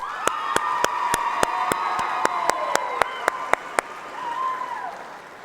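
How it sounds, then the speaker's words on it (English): Crowd applause and cheers at a state convention session as sophomore public speakers leave the stage, with a steady roar of clapping and whoops punctuated by regular sharp percussive hits, tapering off near the end. "help me give our state sophomore public speakers one more round of applause"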